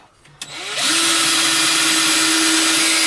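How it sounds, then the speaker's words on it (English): A power drill bores holes while a blending hackle for fiber is being built, starting with a brief click and whir, then spinning up into a loud, steady high-pitched whine that holds to the end. "So I am just drilling these now."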